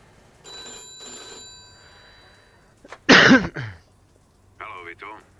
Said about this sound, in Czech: Ale telefon.